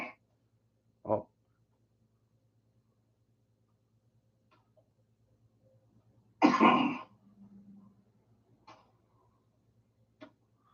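A man coughs sharply once, then makes a few short, rough throat-clearing sounds, each isolated against a quiet background with long silent gaps.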